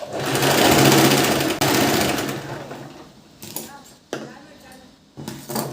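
A sewing machine stitches a princess cut blouse, running loud and steady for about three seconds before stopping, followed by spoken talk with brief bursts of stitching.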